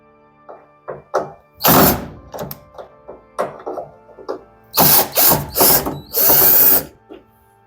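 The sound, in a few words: unscrewing screws from LG condenser dryer cover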